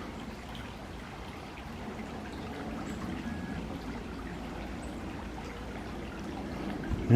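A gentle, steady trickle of a shallow stream along the Wheelock Rail Trail, soft and continuous with no voices, a calm outdoor wash of sound.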